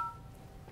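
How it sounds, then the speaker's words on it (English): A brief telephone keypad tone from pressing the pound key while navigating a ShoreTel voice mail system, a single short electronic beep heard alone and fairly faint. "Hit the pound sign to bypass the greeting again"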